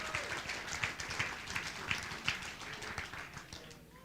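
Applause and scattered clapping from a crowd after a Golden Gloves amateur boxing bout at a shopping mall, heard faintly and steadily for a few seconds with a general crowd murmur behind it.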